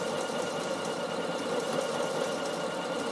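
A Bernina sewing machine runs a decorative stitch at a steady pace, its even, busy mechanical whir continuous and close throughout with no talking.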